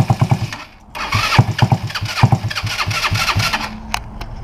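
Small GY6 scooter engine cranking and catching, then sputtering and revving unevenly in close, loud pulses as it struggles to keep running.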